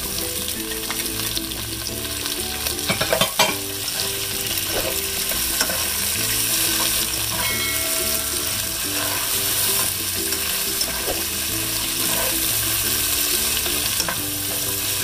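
Tomatoes sauté with pork in a pan for Filipino pork caldereta, giving a steady, moderately loud sizzle with occasional stirring clicks beneath continuous tonal background music, and no talking.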